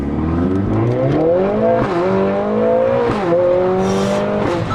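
A Mercedes CLA pulls away hard in first gear with no launch control, the engine note climbing steadily and loud, with short dips at each shift or lift, close to the microphone.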